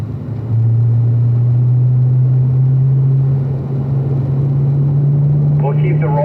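A car held in fourth gear on a cool-down lap, its engine a loud steady drone with pitch rising slowly, heard from inside the cabin under continuous speech.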